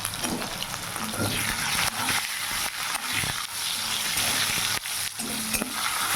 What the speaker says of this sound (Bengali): সবজিগুলো ভাজার সময় হালকা একটু নুন হলুদ দিয়ে ভাজবো